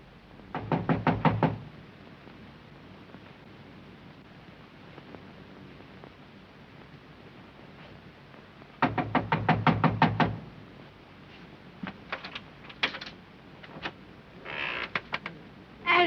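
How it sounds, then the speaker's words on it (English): Knuckles rap on a door in a 1933 film scene, two bursts of rapid knocking several seconds apart, followed by scattered quieter taps and thuds against a low hiss. "Knock on it."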